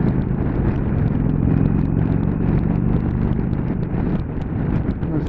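A 2019 Indian Chieftain motorcycle with a six-speed gearbox rumbles steadily on a test ride, its deep engine drone mixed with heavy wind buffeting on the microphone, loud and continuous.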